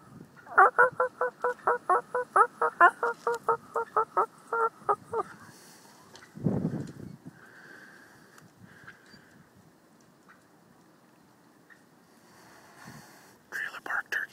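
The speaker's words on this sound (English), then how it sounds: "Look at that gobbler." A wild turkey gobbler gobbles in a fast, loud run of about fifteen rhythmic notes, then a low thump follows and a softer call comes later, with quiet whispering nearby.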